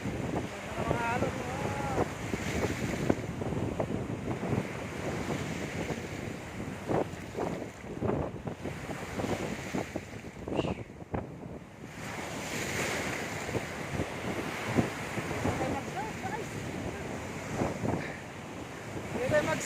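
Ocean waves roll and wash continuously at San Fabian beach, Pangasinan, with heavy wind buffeting the microphone, a loud, rushing surf filling the whole stretch.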